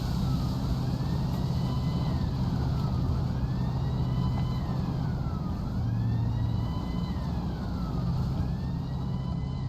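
A wailing ambulance siren in a video game, rising and falling in steady sweeps over a low engine rumble and rain, loud and continuous with no talking.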